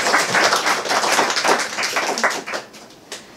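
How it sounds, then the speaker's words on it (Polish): An audience at a Polish art event applauds steadily, many hands clapping together, then the applause thins out and tapers off toward the end. "Brawa."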